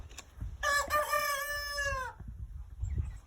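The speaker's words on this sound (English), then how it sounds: "our rooster is the big rooster is really starting to crow well now." A big young homestead rooster, about two and a half months old, lets out one loud, close crow lasting about a second and a half, with faint clucks and farmyard shuffling around it.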